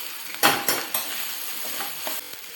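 Fodshi, a wild monsoon vegetable, is stirred in a pan after salt goes in, giving a few sharp scraping strokes against the metal over a faint sizzle.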